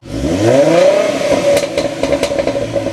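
A Ford Mustang 3.7L V6 on its stock exhaust revs up close and loud, the engine note rising steeply then holding a steady, slightly raspy drone for a few seconds.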